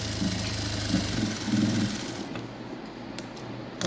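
Sewing machine stitching a puff sleeve, a close, steady whirring run that lasts about two seconds before it stops, followed by faint handling clicks.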